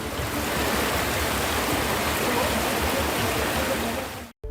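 Floodwater rushes over a bridge as a motorcyclist crosses, a loud, steady roar of turbulent flowing water that fills the whole clip without letting up, cutting out briefly just before the end.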